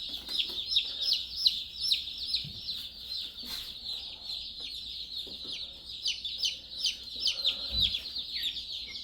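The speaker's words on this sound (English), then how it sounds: "So many chickens." Many pastured meat chickens cluck and chirp continuously nearby, a busy overlapping chorus of high-pitched calls with occasional soft thumps.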